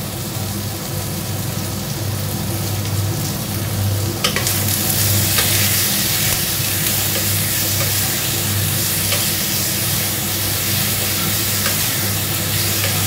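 Slit green chillies and salt fry in a pan, a loud, steady sizzle and hiss of hot oil running throughout with a few faint clicks, close up and uninterrupted.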